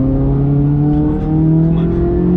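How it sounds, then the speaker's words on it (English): The mid-engine V8 exhaust of a Corvette C8 Z06 revs up from inside the car, a loud, close droning note rising steadily in pitch over a couple of seconds. "with that mid-engine design, you got that exhaust, well, everything right behind you"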